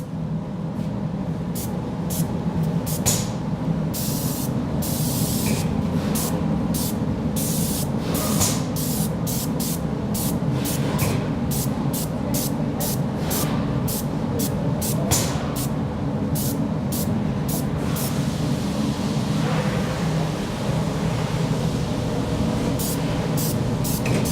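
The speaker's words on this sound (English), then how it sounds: "we're going to spray in short bursts so we don't use excessive product" Undercoating sprayed from a trigger can in short bursts, about a dozen sharp hissing spurts in a loose rhythm over a steady low rumble, close and fairly loud.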